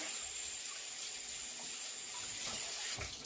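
Tap water runs steadily from a kitchen faucet to rinse sausage residue off a cookie cutter at the sink, a continuous close splashing hiss lasting throughout with a brief surge near the end.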